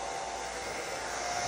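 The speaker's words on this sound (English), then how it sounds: "Got the blow dryer." A blow dryer runs steadily throughout, a loud, even whoosh of airflow with a faint whining tone and no pauses or talk.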